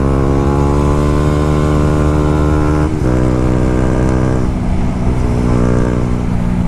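A motorcycle engine revs hard and close, its strong, steady drone rising and falling in pitch as the throttle changes.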